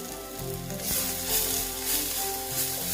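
Egg chop mixture frying in a pan with salt added, giving a steady, loud, close sizzle with faint stirring throughout.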